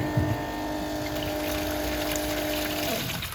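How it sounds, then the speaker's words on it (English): A repaired RV macerator pump pushes grey water through a hose into a bucket, giving a steady mechanical hum with a trickling flow that runs evenly at close range and fades near the end. "The pump is working."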